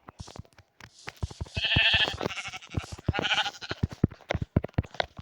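Several sheep bleat in a video game in quick, overlapping calls, with a few short clicks and taps in between.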